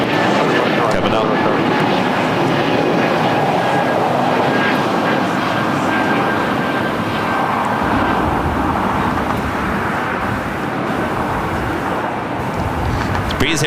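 Airliner making a go-around at LAX, its jet engines roaring steadily at close range over a broad wash of noise, with a live commentator's voice running over the top throughout.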